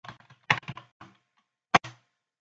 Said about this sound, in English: press the Enter key on the keyboard